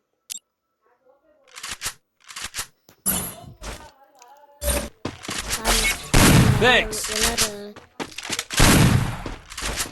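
Shotgun blasts in a video game, several sharp bursts scattered among people talking excitedly over the action.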